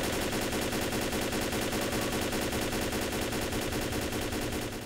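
Rapid automatic gunfire from Left 4 Dead 1, heard up close: a loud, continuous stream of sharp shots packed tightly together for the whole stretch, with no pauses and no talking.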